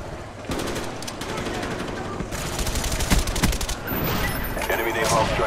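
Automatic gunfire sprays in long rapid bursts during Call of Duty: Black Ops gameplay, loud and dense with continuous battle noise, while a player's voice talks over part of it.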